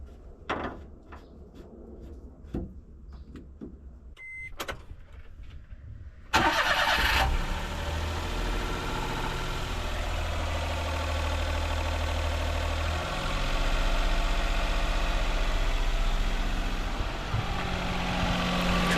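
A Daihatsu Hijet S210P kei truck engine, just after an oil change with 5W30, starts after several scattered clunks and then runs steadily, a close, continuous idle rumble that holds for the rest of the clip.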